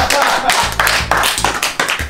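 Several people clap hands together in a room during an acting class, a brisk burst of applause with voices mixed in.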